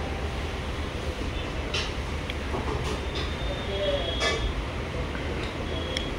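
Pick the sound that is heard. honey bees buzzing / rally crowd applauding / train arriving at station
train arriving at station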